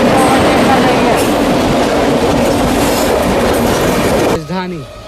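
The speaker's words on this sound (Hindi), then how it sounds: "सियालदह राजधानी हमारी ट्रेन को पहले ओवरटेक कर रही है" A Sialdah Rajdhani Express rushes past alongside a moving passenger train, a loud, dense roar of rolling wheels and clattering carriages that cuts off abruptly, leaving quieter rail rumble with a short squealing tone.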